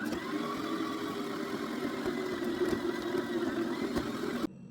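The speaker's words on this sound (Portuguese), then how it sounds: "Vou ligar a batedeira, estou utilizando a parte do gancho, e vou deixar bater por 5 minutos." Stand mixer with a dough hook kneading bread dough for French rolls, a steady mid-pitched motor drone that runs evenly throughout, then drops to a quieter hum near the end.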